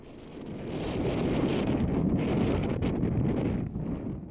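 Strong wind on the west coast of Scotland buffets the microphone in a steady, low roaring rush, swelling and easing slightly, loud and close with no voices.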